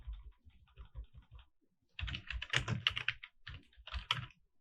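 Bootstrap CSS code being typed on a computer keyboard: close, crisp key clicks, sparse at first and then in quick busy bursts.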